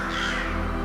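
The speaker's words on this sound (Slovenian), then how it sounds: "In tudi vsak večer ob sončnem zahodu so se krokarji vrnili s hrano za Elija." Ravens cawing at sunset in a narrated telling of the story of Elijah, a continuous harsh bird call with a steady low hum beneath, loud and close for under a second.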